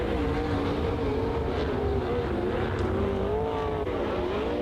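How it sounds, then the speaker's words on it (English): NARC 410 winged sprint cars roar around Santa Maria Speedway in a heat race, a loud continuous engine drone with wavering pitch as the cars circulate, no voices. "3rd final heat race tonight for the NARC 410 Sprint Car Series, set to get unleashed"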